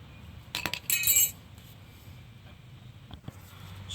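Old brake hardware comes off a 2002 Dodge Ram 1500 in a few sharp metallic clinks and rattles bunched near the start, then fainter scattered taps over a low background.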